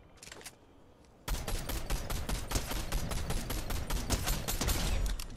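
After a short pause, rapid sustained automatic gunfire erupts in a video game, a dense loud stream of shots continuing to the end.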